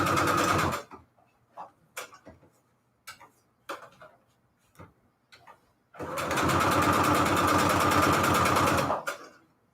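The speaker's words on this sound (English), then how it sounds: "What is wrong with my sewing machine?" A jumpy, malfunctioning sewing machine runs in two loud bursts, one short and one about three seconds long, with scattered ticks and small clicks in the quiet gap between.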